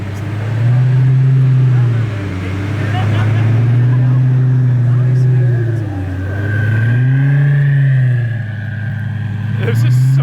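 A 2,000 horsepower Lamborghini Gallardo rolls past at a car meet, its engine droning loud and close in long surging swells with turbo whine rising over it, and people talking faintly beneath.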